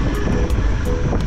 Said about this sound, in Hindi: ड्रोन सन हान्छु म अहिले